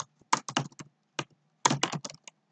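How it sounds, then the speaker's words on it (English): Java code being typed on a computer keyboard, two short bursts of crisp key clicks close by, separated by a pause, with no talk. "when you type O or you start typing"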